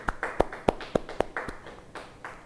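A few people in a church congregation give sparse, uneven handclaps, about nine sharp claps that fade out over a couple of seconds.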